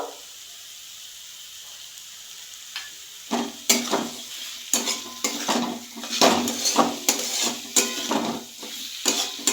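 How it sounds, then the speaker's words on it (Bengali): Potatoes with spices and turmeric sauté in a pan as a utensil repeatedly scrapes and clatters against the metal over a soft sizzle, the stirring strokes coming in quick irregular bursts. "এবার আলুটা দিয়ে একটু কষিয়ে নেব মশলাটা দিয়ে দিচ্ছি একটু হলুদ গুঁড়ো"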